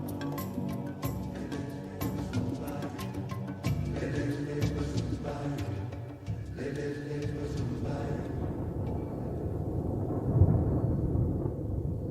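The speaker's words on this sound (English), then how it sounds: "On the Masai Mara, the storms of October approach." An October thunderstorm approaches on the Masai Mara with low, rolling thunder that rumbles continuously, mixed with tonal music.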